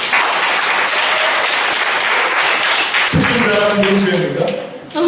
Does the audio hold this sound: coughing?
no